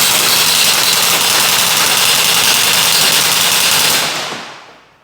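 A gel blaster fires in binary mode through a chronograph as one continuous loud, dense buzz of rapid shots lasting about four seconds, then trails off as the firing stops, alone and close.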